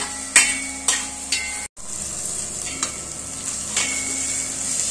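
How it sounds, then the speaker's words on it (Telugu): Peanuts frying in oil in a pan for upma, a constant bright sizzle broken by several sharp metallic taps and clanks of a utensil against the pan, with a brief dropout midway and no speech. "ఇలా మంచి వీటిని వేగనివ్వాలి. పల్లీలు ఎంత మంచిగా వేగనాయి."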